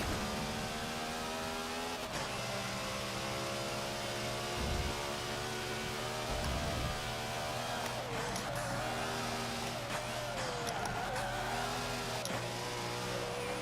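A race car in Forza Motorsport 7 drifts with a steady, loud, whining engine drone, and its pitch wavers slightly as the tires slide through the corner.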